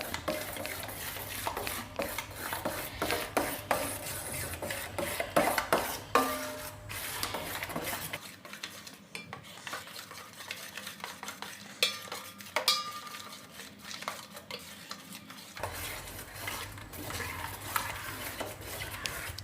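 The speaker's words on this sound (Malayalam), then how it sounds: "നമുക്ക് ഒന്ന് ഉടച്ചൊക്കെ ഒന്ന് റെഡിയാക്കി എടുക്കാം." Cooked banana mashed in a pot for Kerala pazham pradhaman, a continuous run of scraping, stirring and knocking of a utensil against the pot, fairly close and busy, with no talking.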